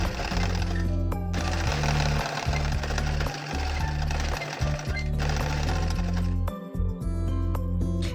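A sewing machine stitching a fabric top runs in loud, rapid, rattling bursts close by, pausing briefly between runs.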